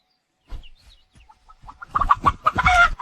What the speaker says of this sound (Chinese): 挑健康的母鸡和公鸡留种，其余放掉。